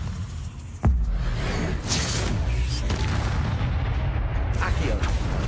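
Levioso levitation spell in Hogwarts Legacy, opening with a sharp booming impact, then a sustained magical whoosh and rumble with a few brighter swishes over several seconds.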